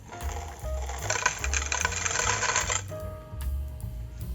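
Gravel pebbles pour into a glass terrarium in a dense, rattling stream of clicks against glass for about two seconds. A few scattered taps and settling stones follow, close and clear with no talking.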